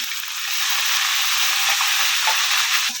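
Tomatoes fry with browned ginger and garlic in a pan for ridge gourd sabzi, giving an even, close, unbroken sizzle with faint soft bubbling.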